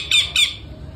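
A pet parrot lets out two sharp, loud squawks in quick succession, close by, with nothing else after them.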